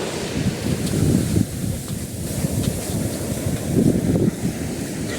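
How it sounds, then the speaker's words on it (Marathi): Ocean waves surge and crash nearby on a Goa beach in rolling swells, mixed with gusty wind buffeting the microphone. "फक्त साऊंड फील करा तुम्ही, लाटांचा साऊंड"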